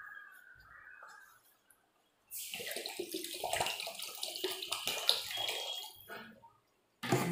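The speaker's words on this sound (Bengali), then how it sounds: "এই দেখো জলটা দিচ্ছি।" Water pours steadily into a cooking pot to make a thin egg curry broth, a close, rushing splash lasting several seconds after a quieter stretch, then stopping before a brief burst at the end.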